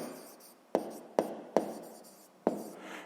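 Pen or pencil on paper during a sixth-grade maths exercise, a soft continuous scratching with four sharp taps as strokes or dots land, close and quiet with no talking.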